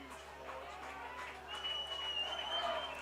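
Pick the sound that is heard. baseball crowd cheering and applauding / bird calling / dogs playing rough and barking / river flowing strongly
baseball crowd cheering and applauding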